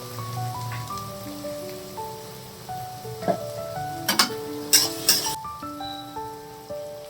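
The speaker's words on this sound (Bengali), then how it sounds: "একটু পেঁয়াজটা ভাজা করে তারপর সবজিগুলো দিয়ে দেবো," Onions sizzle in a pan as the base for homemade fried rice, a steady soft crackle with several sharp scraping clatters of stirring midway, under quiet tonal background music.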